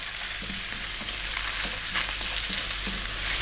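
Bacon sizzles in a pan with a cup of onion and chopped garlic added, a loud continuous crackling fry with occasional scraping as the mixture is stirred.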